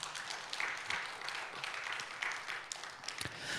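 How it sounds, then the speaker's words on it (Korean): A church congregation applauds the worship team at a night prayer meeting, with steady, moderately distant clapping that fills the room throughout. "찬양팀에게 박수 한번 주시기를"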